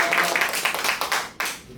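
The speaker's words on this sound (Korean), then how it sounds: "박수 치고 마무리 드리도록 하겠습니다." A small group claps to close a Korean morning lecture on fire insurance basics: quick, uneven hand claps, close and moderately loud, lasting under two seconds.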